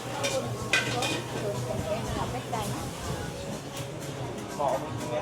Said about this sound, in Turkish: Burada güzel bir şeyler pişiyor.